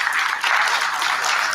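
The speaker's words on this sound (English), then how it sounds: "Could we give them a round of applause?" Steady applause from an audience at a school board of education meeting, dense and continuous clapping filling the room for a brief moment.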